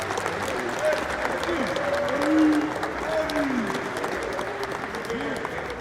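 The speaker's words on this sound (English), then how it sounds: "So let's give him a round of applause." Sustained audience applause on a college football coach's show, with some crowd noise and voices speaking over the clapping throughout, steady and fairly loud.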